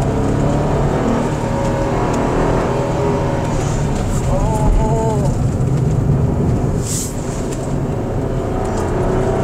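A 2023 Nissan Almera 1.0 turbo with a manual gearbox drones loudly and steadily from inside the cabin, its engine pitch rising briefly partway through a rev.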